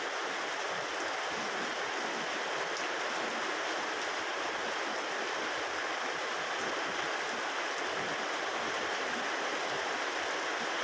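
Steady rain falls in a continuous broadband wash, constant in level and unbroken, with no talking.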